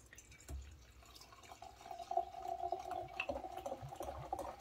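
Freshly opened homemade fruity cider fizzes softly and steadily, its bubbles crackling and popping close by with a few brighter pops standing out.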